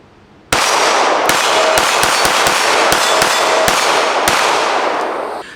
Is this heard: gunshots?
yes